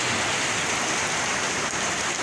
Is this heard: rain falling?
yes